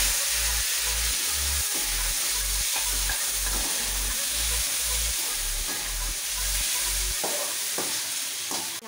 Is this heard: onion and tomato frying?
yes